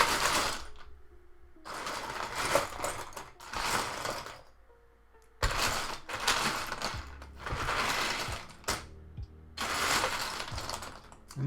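Loose Lego pieces being rummaged and sifted by hand in repeated bursts of clattering plastic, several seconds each, separated by short quiet gaps, close and fairly loud with no talking.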